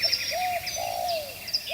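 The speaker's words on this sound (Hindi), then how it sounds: "हमने देखा कि हमारी दाढ़ी में चिड़िया अपना घोंसला बना चुकी थी" Short, bright bird chirps and cooing tweets used as a comedic sound effect, a few rising calls repeating over roughly two seconds with no speech.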